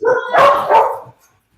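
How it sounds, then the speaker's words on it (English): Loud dogs barking close by, three quick barks in a short burst that then fall silent, with no talk. "I have 2, and they are very loud dogs."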